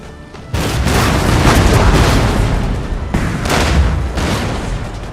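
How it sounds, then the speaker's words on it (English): Booming artillery fire from a Total War Empire battle, with loud sustained volleys of cannon blasts rolling one after another and a second heavy barrage erupting midway. "Artillery fired."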